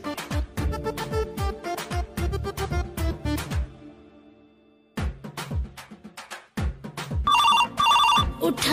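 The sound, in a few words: mobile phone ringing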